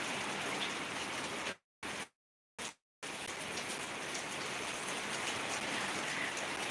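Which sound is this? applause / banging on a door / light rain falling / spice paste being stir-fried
light rain falling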